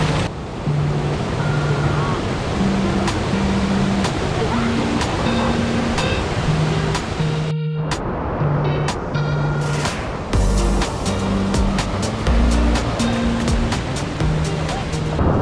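Twin Falls in Cape York, a loud, continuous rush of falling and flowing water with wind buffeting, overlaid by a repeating melodic pattern of musical tones.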